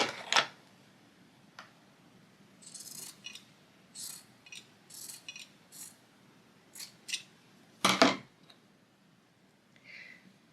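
Scissors snip fabric scraps for crazy quilt blocks, a series of short, crisp cuts spaced irregularly and close by, with one louder snip near the end and a quiet background between.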